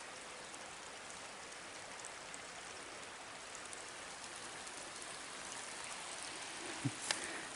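A small forest creek flows with a faint, even trickling hiss that stays steady throughout, heard alone without voices.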